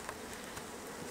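Honeybees from an Italian-Russian hybrid hive buzz in a steady, close swarm drone, continuous and dense with no voices over it.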